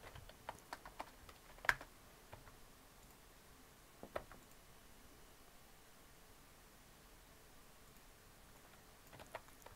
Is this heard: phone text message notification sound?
no